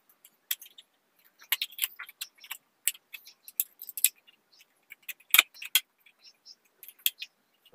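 Scissors cut through a plastic bottle in close, sharp snips and crackling clicks, arriving in irregular bursts with quiet gaps between, and no talking.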